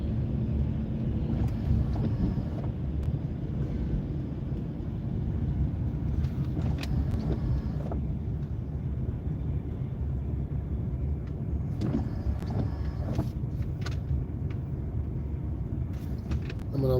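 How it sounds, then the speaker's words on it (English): A car engine idles steadily at roughly 680 RPM while the car is driven, a continuous low rumble with road and wind noise, with no talk. "Our engine is idling about 680 RPMs."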